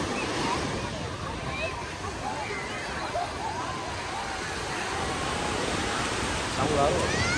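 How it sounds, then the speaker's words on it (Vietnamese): Ocean surf breaking on a beach at Nha Trang, a steady broadband wash of waves rolling in continuously at moderate loudness, with a slight swell near the end and no clear talk over it. "Sóng lớn rồi."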